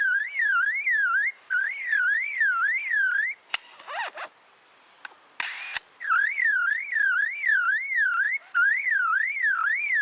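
A lyrebird mimics a car alarm with loud, rising-and-falling electronic warbles in repeated cycles, broken midway by a few seconds of scratchy rustles and clicks before the alarm-like siren resumes, all made by the bird's voice.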